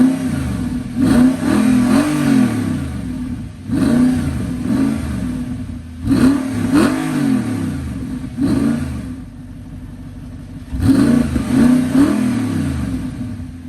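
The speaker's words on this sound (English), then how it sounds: "hopefully the mic can pick up the idle on this car" A 2009 Audi R8 V8 with a Capristo catback exhaust revs in several loud, close blips, each rising and falling, with a lower rumble between them.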